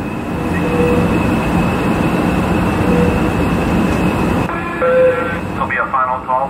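Amtrak train 716 stands at Modesto station with a loud, steady mechanical rumble and hum, while a station public-address voice speaks near the end as the noise eases.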